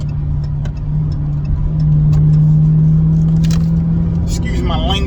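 A car's exhaust drones loudly and steadily as it is driven, the engine rumble swelling slightly as it revs, with a voice briefly heard near the end.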